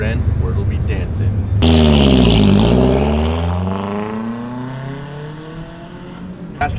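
Nissan 720 minitruck with a swapped KA24DE engine barks through a custom side-exit exhaust, a sharp rev that rises and falls away, then settles into a fading drone.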